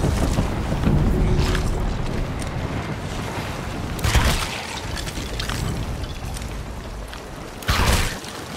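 Cannon fire in the pirate video game Sea of Thieves: two or three deep booms standing out from a loud, constant wash of sea and ship noise, with no talk.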